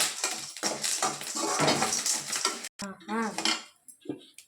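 Lentils for paruppu podi dry-roast in a pan, giving a dense, continuous rattling and scraping as they are stirred. The sound is close and fairly loud, thins out briefly, then returns in short bursts.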